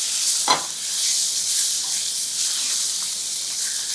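Steak searing over high heat in a hot pan gives a steady, even sizzle with one brief louder burst as the meat shifts or is turned; no one speaks.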